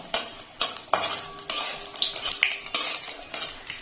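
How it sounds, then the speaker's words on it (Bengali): Bori, lentil dumplings, fry in hot mustard oil in a wok while a utensil clinks and scrapes against the metal in irregular bursts, with faint sizzling beneath the clatter. "বড়িগুলোকে আমি লাল লাল করে বেজে নেব।"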